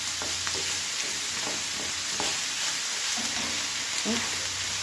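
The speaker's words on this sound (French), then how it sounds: "on fait bien rissoler la viande et les légumes" Chicken and vegetables browning in a frying pan, a steady hiss of sizzling with occasional utensil stirring clatter, close and moderately loud throughout, with no talk.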